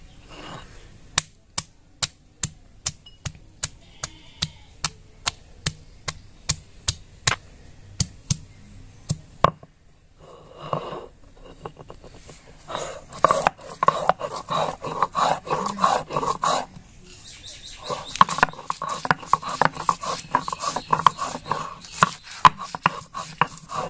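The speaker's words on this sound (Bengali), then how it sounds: "আদা রসুন একসঙ্গে বেটে নিব।" Ginger and garlic being ground together into a paste by hand, first a run of regular sharp knocks, then denser rhythmic scraping and thudding strokes, close and without voices.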